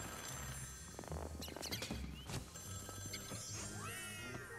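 A telephone ringing inside the haunted hotel of the video game Luigi's Mansion 3, quiet bell-like trills over low game music and scattered effects, with no one speaking.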